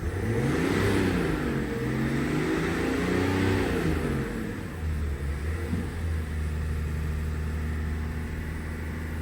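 A diesel truck engine runs after a repair for gasoline in the diesel tank, revving up and down a couple of times before settling into a steady, rumbling idle, heard close and without talk.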